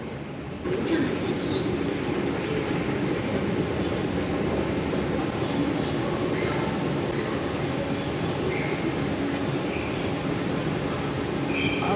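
A metro train in China runs with a steady, broad rumble and faint rail clatter that continues unbroken throughout.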